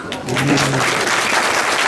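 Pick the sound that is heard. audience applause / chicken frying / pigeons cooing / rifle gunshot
audience applause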